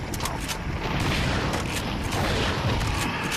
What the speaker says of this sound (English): Dr. Salvador comes, so we shoot him.